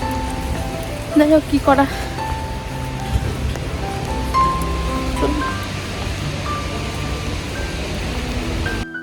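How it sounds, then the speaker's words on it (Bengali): Heavy rain pouring down in Florence amid wind, a steady broadband wash that runs under a voice speaking briefly near the start. "পুরো ঝমঝম করে বৃষ্টি হচ্ছে, সাথে হাওয়াও ছিল"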